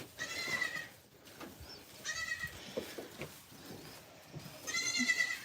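Goats bleating on a small home farm during milking time, several drawn-out, wavering calls at moderate distance separated by quieter gaps with faint rustling.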